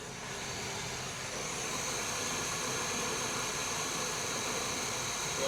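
A 1959 Corvette C1 with a 283 cubic inch V8 idles smoothly, a low steady rumble with a continuous even hum and no voices.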